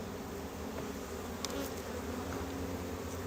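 Honeybees buzz during a hive inspection of a colony with bulging wild comb, a dense, continuous droning hum close by, steady and unbroken for a few seconds.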